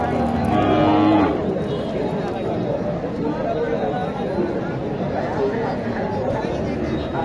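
Sahiwal cattle moo at a crowded livestock market in Naogaon, one low call near the start, amid steady crowd chatter and people talking close by.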